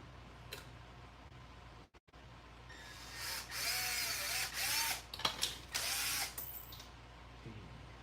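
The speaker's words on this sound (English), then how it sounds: "I want to drill out this hole" A power drill whirs in several bursts after a quiet pause, with short stops and restarts, close and fairly loud over a low background hum.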